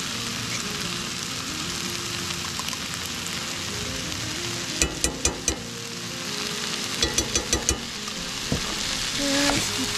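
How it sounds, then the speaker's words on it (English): Beef and onions sizzle and fry steadily in a pan at a campsite in a national forest, with scattered sharp clacks of a utensil against the pan midway and near the end. "now that they're translucent, we're going to go ahead and add the beef"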